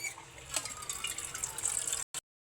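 Water poured into a cooking pot, a short bright splashing trickle for about two seconds that stops abruptly, with a brief final splash.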